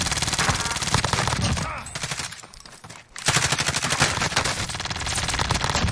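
Sustained automatic gunfire in the shooter game Warzone: loud, dense rapid bursts that fill most of the stretch, with a brief lull in the middle before the firing resumes just as heavily.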